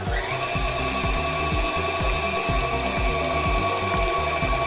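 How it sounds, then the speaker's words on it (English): A stand mixer beats birthday cake batter at medium speed with a steady, loud motor whir and a rhythmic thumping pulse from the paddle, continuous throughout without speech. "we increase the speed to medium and continue to beat for about 2 minutes"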